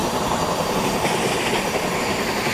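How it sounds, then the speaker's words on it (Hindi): Steady rumble and rhythmic rattle of the Ahmedabad–Puri Express rolling along track at around 110 km/h in Train Simulator, a continuous, fairly loud wheel-on-rail drone with no talking. "यार एक तो ट्रैक साउंड इतनी प्यारी हो रही है ना"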